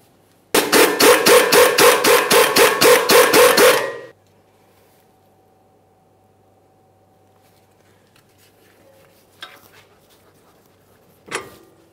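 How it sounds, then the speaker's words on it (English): A ratchet or wrench works the 18 mm sway bar link mounting nut on a Jeep Grand Cherokee front suspension, giving a rapid burst of about a dozen loud, even clicks up close, then near silence with faint tool knocks. "While holding this, we can remove the 18 millimeter headed mounting nut from the backside."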